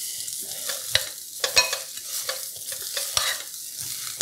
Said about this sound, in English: I hear a little sizzling over nicely.